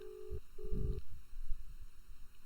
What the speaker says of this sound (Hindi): रिंगिंग आ रहा है